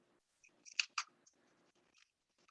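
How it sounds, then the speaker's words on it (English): Scissors cut around a paper shape in a few quick, crisp snips close to the microphone, with short pauses between them and no voices. "I'm just going to take my scissors and go all the way around,"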